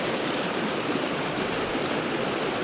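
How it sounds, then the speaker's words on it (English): A river stream on Cornwall's wild coast rushes steadily over rocks, a loud, unbroken broadband wash of flowing water close by, with no voices. "Looking back up the river, up the stream."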